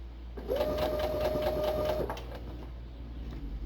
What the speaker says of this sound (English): I don't like to stitch fast.